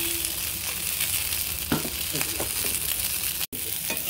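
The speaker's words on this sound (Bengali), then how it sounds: "আর একটু ভাজবো।" Food fries in a pan with a constant hiss, and a scatter of clicks and scrapes from stirring drops in over it for a few seconds, with a brief dropout near the end.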